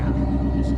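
A classic car rumbles steadily after a burnout, with a loud, continuous low engine drone throughout and no clear break.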